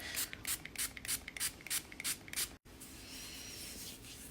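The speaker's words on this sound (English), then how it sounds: "do you need some more anti-bac spray?" A handheld anti-bacterial spray bottle fires a quick run of about nine close, hissing bursts in a steady rhythm, followed by a soft continuous hiss and faint rustling.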